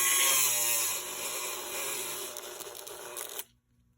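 A power tool bit grinds and cuts into an M203 grenade launcher part, a loud steady whining buzz lasting about three and a half seconds before stopping abruptly.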